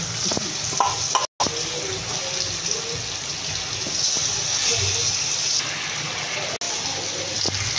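Sea bass pieces dropped into a pan of tomato curry, with steady loud sizzling and stirring throughout and a couple of brief dropouts.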